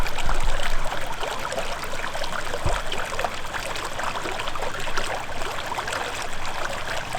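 Water trickles and bubbles steadily from a spring coming up out of the ground at an old mine site, a continuous outdoor gurgle with a couple of soft low thumps and no voices.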